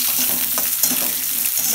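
Curry leaves and chopped onion hit hot oil with peanuts on a low-medium flame, giving a loud, steady, crackling sizzle with light stirring scrapes throughout the short stretch.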